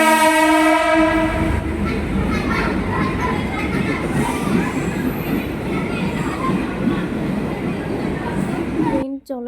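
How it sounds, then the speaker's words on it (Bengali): A train pulls into a station with a long loud horn blast at the start, then the rumble and clatter of wheels and cars rolling close by, fading sharply at the end. "তো দেখো ট্রেনও এসে পড়লো।"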